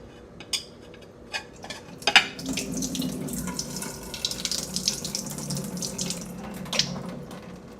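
Hot water runs from a tap over ackee in a kitchen sink, then drains through a strainer, a steady splashing flow punctuated by sharp metallic clinks of a pot and utensils, close and fairly quiet.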